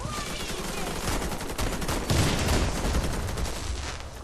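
Rapid gunfire from a video game firefight, with a sniper among the shooters, cracking in dense bursts for several seconds at steady loudness, while players talk and shout over it.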